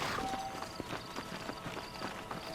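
Horses walking in Red Dead Redemption, game audio with soft irregular clip-clop hoofbeats on the ground, several hooves at a moderate distance, under quiet ambient sound with no talk.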